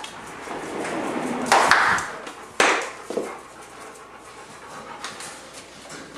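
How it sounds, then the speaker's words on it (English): Three dogs pant softly during a crate training session, with rhythmic breathing running throughout, broken by a couple of brief louder knocks or clatters partway through. "Now this is three dogs."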